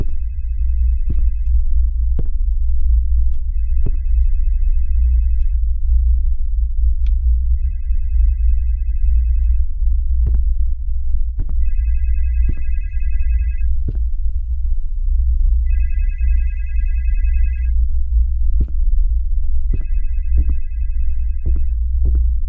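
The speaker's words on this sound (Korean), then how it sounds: "전화기 소리가 어디서 나는지" A telephone rings in a hotel room, loud repeated electronic ring bursts in a steady pattern over a heavy low throbbing hum, with sharp knocks and thuds scattered through and no talking.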